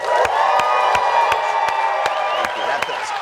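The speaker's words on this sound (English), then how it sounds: "Everybody, let's make some noise welcoming back to the hot seat" A live studio audience at a hot wings interview show cheers and whoops in one continuous loud roar, with sharp claps punctuating it at a steady rhythm.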